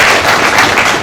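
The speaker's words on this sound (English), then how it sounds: "we need to clap for ourselves" An audience applauding at an official public launch event in Plateau State, heard as a dense, steady wash of close, loud clapping throughout with no pauses or voices.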